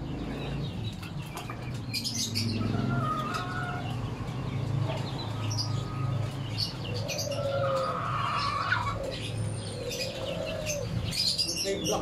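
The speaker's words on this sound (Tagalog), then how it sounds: "Manok ni Ronnie Magdalo." A rooster and chickens in a yard, with clucks, chirps and wing flaps over continuous background noise, plus occasional brief voices.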